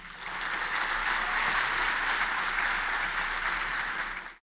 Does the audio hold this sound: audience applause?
yes